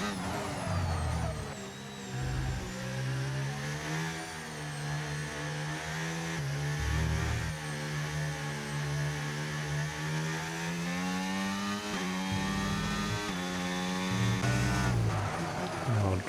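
Formula 1 race cars in the game F1 25 during a league race at Abu Dhabi: a loud, continuous high engine whine rising and falling with gear shifts, with brief pitch drops as the car brakes and accelerates.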